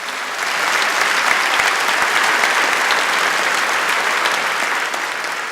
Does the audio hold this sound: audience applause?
yes